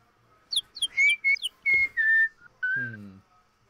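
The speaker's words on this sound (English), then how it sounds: "Do any of you know how to whistle?" Someone whistles a quick melodic run of short rising and falling notes, then a few longer held tones and a lower buzzy note at the end, close and fairly loud, with no talking over it.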